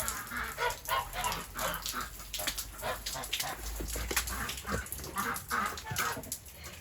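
Ducks quack and honk loudly in the rain, a restless chorus of repeated calls over steady patter and background noise, no talk heard.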